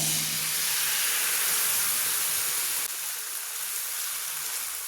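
Dosa batter hits a hot oiled pan with a steady, close hiss of sizzling steam that eases slightly partway through, with no voices.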